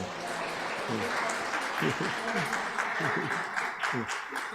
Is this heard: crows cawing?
no